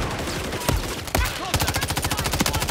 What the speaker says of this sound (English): Where am I getting fucking shot from?